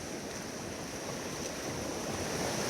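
A raging, flooded creek near Daylesford rushes past close by, a dense continuous roar of churning water that holds steady throughout with no talking.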